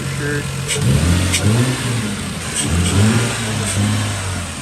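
A Lexus IS300 drift car engine idles roughly and then revs up twice, rising and falling in pitch close by, while people talk over it.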